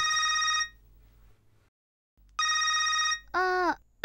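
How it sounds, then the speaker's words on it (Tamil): Mobile phone ringing with an incoming call from an unknown number; a loud, close electronic ringtone sounds in two bursts with a silent gap between, followed by a brief warbling tone, and no talking. "அன்னோன் நம்பர் கால் வருது, நான் பிக் பண்ணட்டுமா?"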